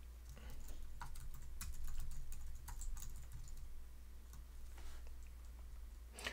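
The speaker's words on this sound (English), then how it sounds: "So I'm going to type it" Keys on a computer keyboard clatter in quick, uneven bursts of close, crisp clicks over a low steady hum, with no talking.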